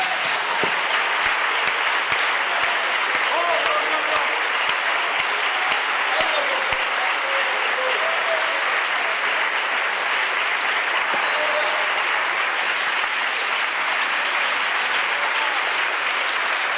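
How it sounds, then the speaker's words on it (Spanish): Congregation applauding during a pastor's church sermon: sustained, dense clapping from many hands that stays steady and fairly loud for the whole stretch, with faint voices mixed in underneath. "Ese aplauso mejor para el Señor."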